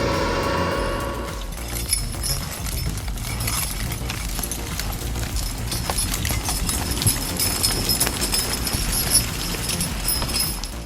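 Horse hooves clip-clop steadily during horse logging in the woods, a continuous run of irregular thuds and knocks with faint metallic jingles, fairly close and without speech.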